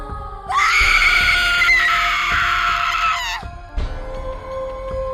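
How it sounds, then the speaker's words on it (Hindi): A single piercing scream rings out loud and close for about three seconds, followed by a brief shorter cry, used as a horror story sound effect. "तभी एक चीख के साथ पूरा वातावरण गूंज गया।"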